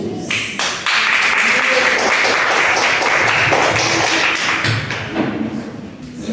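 A church congregation claps together in praise during a Portuguese-language evangelical service, steady dense applause filling the room, with a voice speaking over it at moments.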